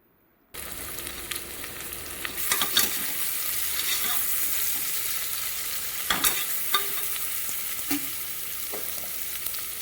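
Onions sautéing in a pan with mint and coriander, a steady close sizzle with occasional stirring scrapes, no talk.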